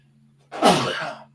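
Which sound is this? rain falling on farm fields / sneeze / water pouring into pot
sneeze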